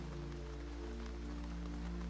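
Faint, steady rain falls continuously in a calm setting, with a soft even hiss and a low background hum and no distinct drops.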